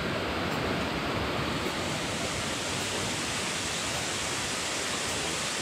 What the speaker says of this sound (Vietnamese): ngắm nhìn một con thác còn hoang sơ tại một khu rừng nguyên sinh như vậy